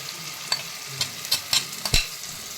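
A spoon stirs and scrapes a pan of gravy for vegetarian Hyderabadi paneer as a yogurt spice mix goes in, a soft sizzle underneath and several sharp clinks at an uneven pace, close by.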